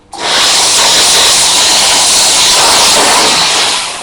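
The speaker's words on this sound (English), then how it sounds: "with the lance it's going to be very, very direct steam" A steam cleaner lance blasts direct, high-pressure steam in one loud, steady hiss that starts abruptly and holds for several seconds before easing slightly, with no talking.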